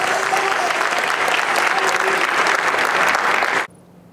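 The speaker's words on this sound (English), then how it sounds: "Clap your hands" A church congregation claps together in a dense, steady burst of applause that fills the space, then cuts off abruptly near the end.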